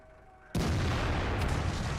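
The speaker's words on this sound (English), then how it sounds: "There's 2 shots out from the AMX." An AMX tank's main gun firing in World of Tanks: a sudden heavy boom that rolls into a long rumbling tail, with a second shot cracking out about a second later.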